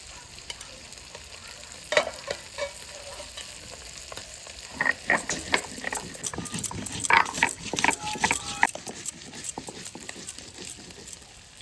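Hilsa fish frying in oil in a wok, a close crackling sizzle with scraping stirs and spatula clatter that grow busier in the middle; a dog barks faintly in the distance.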